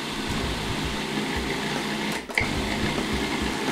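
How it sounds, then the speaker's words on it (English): A food processor pulsing brown rice flour with xanthan gum into dough, a close mechanical whir in short repeated bursts with a brief pause midway. "Food processors are great for making dough."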